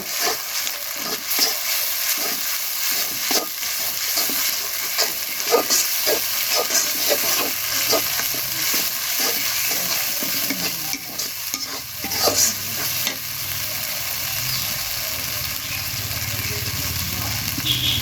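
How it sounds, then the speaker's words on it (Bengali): Ginger, garlic, cumin and garam masala pastes fry with onions in a village-style pan, hissing loudly and continuously while a spoon stirs and scrapes in quick, repeated strokes. "মশলাগুলো একে একে পেঁয়াজ ভাজার মধ্যে দিয়ে দেব আদা রসুন জিরা বাটা আর গরম মশলা বাটা"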